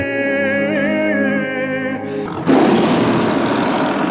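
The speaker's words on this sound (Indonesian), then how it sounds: "Dalam ilusinya itu, Bayraf seolah-olah memeluk Rasika, tetapi realitanya ia diterkam oleh harimau." A tiger in a film scene pounces and attacks a man, a sustained rumbling growl swelling into a loud harsh roar that bursts up sharply near the end, close and dominant, with no talking.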